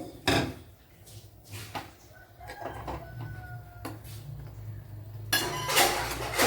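Spice powders being mixed in a bowl for chickpea curry, scattered clinks and knocks of a spoon against the bowl, close and fairly quiet, with a louder rustling burst at the end.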